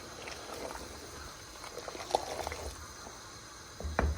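A fennel seed and almond curry simmering in a pot, with faint gentle bubbling and a few small pops close by, plus a louder clatter at the very end.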